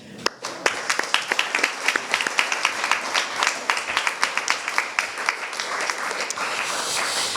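An audience at a police prefecture eloquence contest applauds, producing a steady stream of many hand claps, loud and close, alone without talk throughout.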